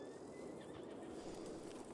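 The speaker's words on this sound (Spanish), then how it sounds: "Bastante buen caballo, la verdad." A horse in a Western open-world video game moves steadily, its soft clip-clop hoofbeats and faint snorting running continuously beneath a broad, even bed of outdoor ambience, with no talk over it.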